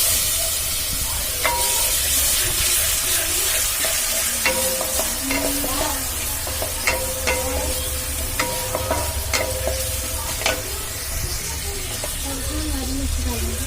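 Onions and tomatoes sizzle and fry steadily in a pan, close and loud, with repeated stirring scrapes and clinks over the continuous hiss.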